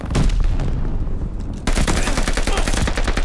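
Shotgun fire in the online shooter Call of Duty: Vanguard, a dense barrage of loud, booming blasts that keep going with hardly a pause and surge louder partway through, with faint voices mixed in among the gunfire.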